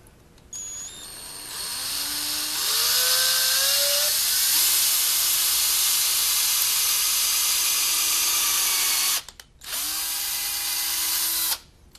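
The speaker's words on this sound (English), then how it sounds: "You don't have to go very far into this block with that countersink for that screw to be recessed in there." A power drill drives a countersink bit into a wooden block, whining loudly and steadily as it ramps up in pitch, then cuts out briefly near the end and starts again for a second short run.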